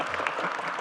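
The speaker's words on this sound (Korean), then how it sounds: "박수 막 치셔도 됩니다." A large audience at a town hall meeting in Ulsan breaks into brief, steady applause, a dense wash of many hands heard from a distance, moderately quiet.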